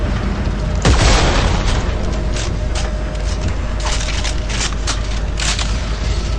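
A single heavy boom from a weapon in the video game Dead Space 3 erupts near the start, followed by a sustained noisy rumble with scattered bursts and crackles, loud and close.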